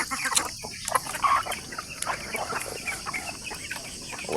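Chickens cluck steadily in the background, with scattered squawks and short calls over a noisy outdoor hiss.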